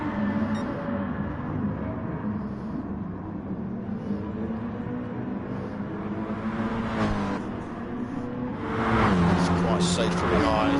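Race car engines in a racing video game roar continuously under excited commentary, one car drifting around a corner, with revving rising and falling and a louder surge of engine noise near the end.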